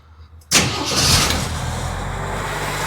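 A Jeep engine with HEI ignition and a freshly tuned carburetor idle cranks and catches after a short quiet moment, then settles into a loud, steady close-up running roar.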